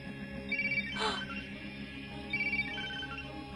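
A phone rings with two short electronic trills, quiet and indoors, separated by a brief pause with a faint noise burst between them.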